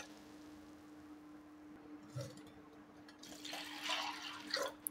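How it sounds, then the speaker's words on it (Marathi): Water poured over soaked rice and mixed lentils in a bowl, a soft splashing fill that builds in the second half over a low steady hum, fairly faint and close. "आता याच्यामध्ये आपल्याला भरपूर प्रमाणामध्ये पाणी घालून भिजत घालायचं आहे"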